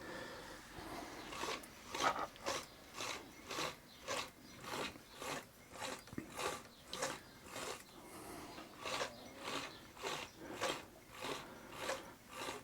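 The large pulley of a hand-held portable bag closer sewing machine is turned by hand, clicking and whirring in a steady repeating rhythm of about two cycles per second, close and quiet with no talk.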